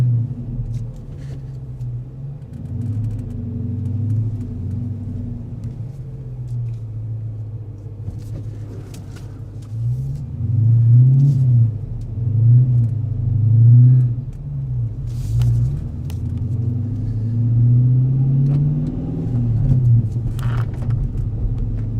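Steady low engine rumble of a car with a stiff clutch out on a drive, holding a constant drone that swells louder in pulsing surges midway through as it accelerates, with no talking.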